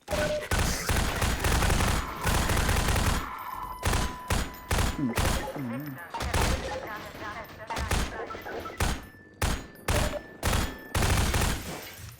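Gunfire in the video game Half-Life 2: repeated bursts of loud shots at close range through most of the stretch, mixed with in-game effects, with someone talking excitedly in between.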